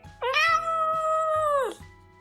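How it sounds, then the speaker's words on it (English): A cat gives one long, drawn-out meow close by, loud and clear with a rising start and a falling end, over faint background thumps. "That meow clearly means dinner's late and heads will roll."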